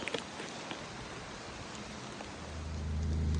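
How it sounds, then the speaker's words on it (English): Rain falling steadily outdoors on a rainy day, a dense, even hiss of drops that swells louder toward the end with a low rumble joining in, and no voices. "And now it's raining, so I'm going to wait a minute until the rain stops."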